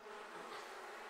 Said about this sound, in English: Oh, you're attending to the bees now.